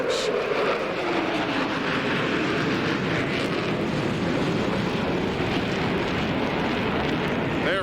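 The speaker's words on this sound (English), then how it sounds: "The flyover here to U.S. Air Force F-15 Strike Eagles." U.S. Air Force F-15 Strike Eagle jets from the 333rd Fighter Squadron fly over a NASCAR race, a broad continuous jet roar that holds loud throughout with a slowly shifting pitch.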